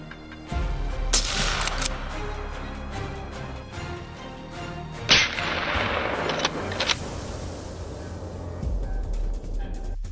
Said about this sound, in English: The moment his prey came into view, rapid gunfire erupted,